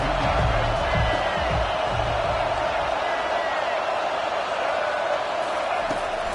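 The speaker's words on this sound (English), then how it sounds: "3rd down, and this crowd is tearing the lid off this place." A packed college football stadium crowd at Auburn roars on third down, a loud, dense, continuous wall of cheering that holds steady throughout.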